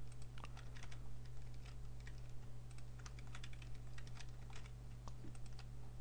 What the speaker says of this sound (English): click and hold down control, just keep clicking all the ceiling parts